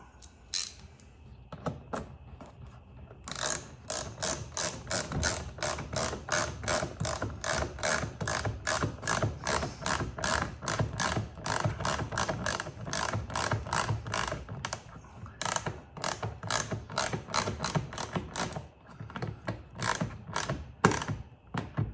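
A hand ratchet clicks rapidly and steadily while tightening a screw on a Tesla Model Y mud guard, close and crisp, with a few brief pauses between runs of clicks and no talking.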